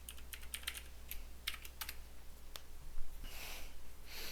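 Rapid, uneven keystrokes on a computer keyboard, a scatter of light clicks and taps close to the microphone over a low steady hum, with no voices.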